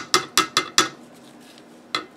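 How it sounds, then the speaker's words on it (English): A small hammer taps a metal rifle sight on a Swiss K-31 rifle, giving four quick, bright metallic strikes, a pause, then two more close, sharp taps. "Got myself a little cute little hammer. First I just want to tap it in."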